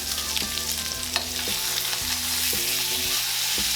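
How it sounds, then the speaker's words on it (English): A prime strip steak sears in a pan just after being flipped, producing a loud, continuous, close crackling sizzle, with faint steady tones running underneath. "Let's go ahead and flip over our steak."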